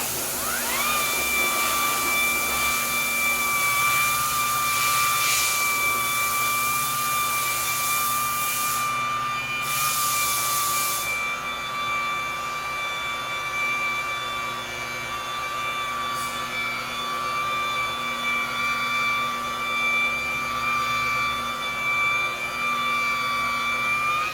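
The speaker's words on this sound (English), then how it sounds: "still got the Peter buffer in my hand, aka rotary buffer" A rotary buffer polishing the hood of a BMW 5 Series, a steady high-pitched motor whine holding a constant tone for a long stretch, with brief bursts of louder hiss from the pad on the paint.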